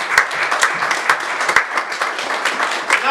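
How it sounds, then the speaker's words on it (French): Steady congregational applause fills a church service, dense overlapping claps with a few sharper accents, moderately loud and continuous throughout. "Acclamons pour le Seigneur."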